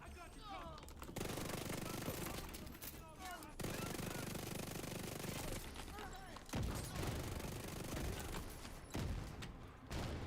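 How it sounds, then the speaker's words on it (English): Explosions and gunfire from The Division 2, with dense, continuous bursts of shots and blasts filling the whole stretch and several louder booms standing out. "Why is everything exploding?"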